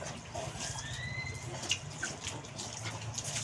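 Water pours steadily from a washing machine hose used as a makeshift shower at home, a continuous splashing hiss with no voices.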